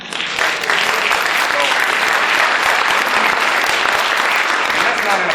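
An audience in a hall bursts into sustained applause, loud steady clapping from a crowd that swells quickly and holds for several seconds.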